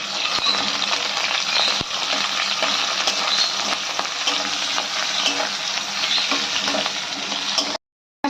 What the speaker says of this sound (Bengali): পেঁয়াজটা যতক্ষণ ভাজা ভাজা হচ্ছে